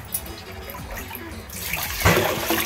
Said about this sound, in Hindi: देखिए अच्छी तरह से पानी डाल डाल के उसको दो तीन बार धोएंगे।